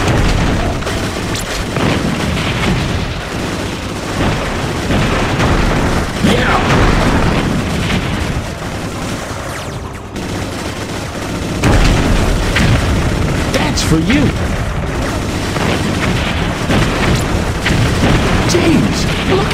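Heavy, continuous booming explosions and rumbling blasts from the helicopter game Heli Heroes, dense and loud, with a brief voice speaking over them.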